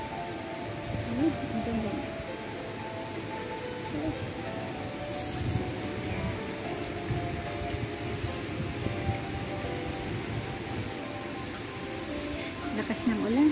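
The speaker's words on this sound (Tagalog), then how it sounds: "Lakas ng ulan." Steady heavy rain pours down outdoors on a New Year's night, a dense constant hiss throughout, with a few brief voices speaking quietly over it.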